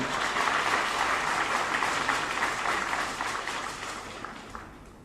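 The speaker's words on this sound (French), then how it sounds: "applaudissez pour vous-même" An event audience at a community gathering gives sustained, dense applause that holds steady and then gradually fades away over the last seconds.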